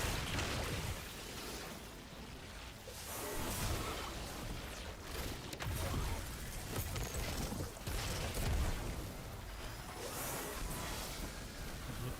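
Explosions and bursts in the Destiny 2 video game, a busy, rumbling mix of booms and whooshing blasts at low level, layered with continuous game ambience.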